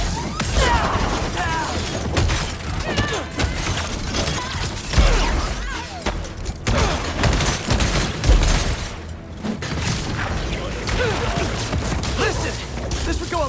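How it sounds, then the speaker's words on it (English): Rapid bursts of gunfire rattle through a chaotic fight in the video game Spider-Man 2, mixed with crashes, impacts and mechanical clatter, loud and dense throughout, with brief voices in between. "Opening fire!"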